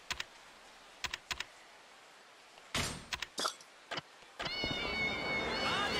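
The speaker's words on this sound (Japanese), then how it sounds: "にゃにゃにゃにゃにゃ言うてる。" Several short meows squeak out in quick bursts from cat shoes in Yakuza Kiwami, separated by pauses, followed by a longer run of warbling high-pitched cat-like cries near the end.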